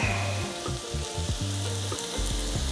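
Mushrooms fry in butter in a pan, a loud close continuous sizzle with a few soft stirring taps, no voices.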